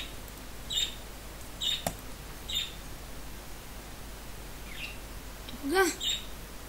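Short, high chirps from a bird repeat at irregular intervals, faint and distant against a quiet hiss.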